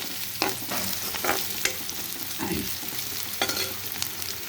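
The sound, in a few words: ginger garlic paste frying and stirring in pan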